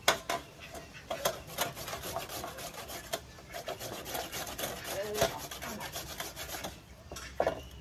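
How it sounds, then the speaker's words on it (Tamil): Peeled tapioca root is rubbed against a hand grater to make vadai batter, giving close, continuous rough rasping strokes in an irregular rhythm with no pauses. "இது மாதிரி பொறுப்படியாக துருவி எடுத்துக்கலாம்"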